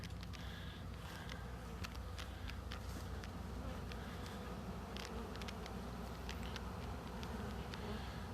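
A swarm of honeybees gathers at a hive box outdoors, a continuous dense buzzing drone with sharp passing whines and ticks of bees flying close by, steady throughout and with no talking.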